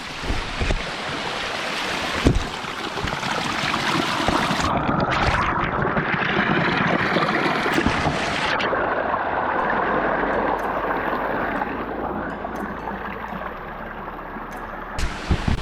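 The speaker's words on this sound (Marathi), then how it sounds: "वाटेत चालता चालता असे धबधबे लागत आहेत छोटे पाण्याची ओळ दाखवतो तुम्हाला" Small waterfalls and a stream flowing beside a forest trail, a continuous broad rush of water that swells and shifts with gusts of wind noise on the microphone and persists throughout.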